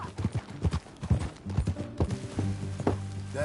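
Horse hooves clip-clop in a steady trotting rhythm in Red Dead Redemption, close and distinct with a faint background of music.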